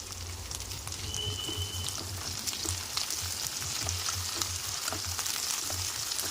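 Onion with curry leaves and mint frying in a pan for potato masala curry, a steady close sizzle with faint stirring clicks running throughout, no voices.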